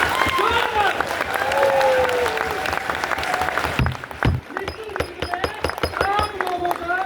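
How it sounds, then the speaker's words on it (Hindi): Loud audience applause and cheering fill a crowded hall, a dense sustained roar of clapping with shouts over it, thinning briefly partway through before swelling again. "एक बार जोरदार ताली।"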